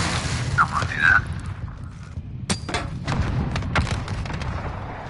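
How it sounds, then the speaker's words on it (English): Grenades go off inside a building in Call of Duty: Modern Warfare, a series of sharp booms and thuds in quick succession after a brief opening whistle-like tone. "I wish people would stop throwing grenades in my fucking building."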